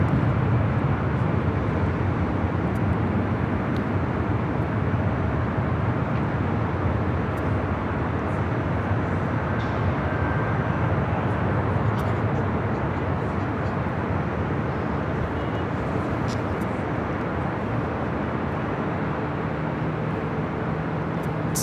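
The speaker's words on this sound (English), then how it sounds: "This takeoff is Delta Airlines 2120 taking off to Las Vegas on the A319." A Delta Airlines Airbus A319 airliner roars steadily through its takeoff run, a loud, broad, continuous engine rumble holding for about twenty seconds.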